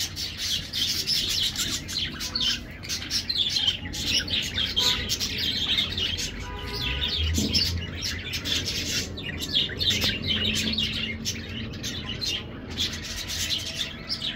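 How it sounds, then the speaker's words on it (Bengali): Caged budgerigars in an aviary at Narayanganj City Park keep up a steady stream of bright chirps and twitters, busy and continuous at moderate loudness over a low outdoor background hum. "এটাকে বাজিগর পাখি বলা হয়"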